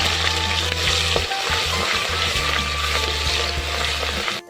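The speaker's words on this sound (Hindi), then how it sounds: "अब इसमें मैं अदरक, लहसुन और सब्ज़ मिर्च का पेस्ट ऐड कर रही हूँ।" Ginger, garlic and green chili paste sizzles loudly in a pan with frying onions that are turning light golden, a steady close crackle with occasional stirring scrapes, no voices.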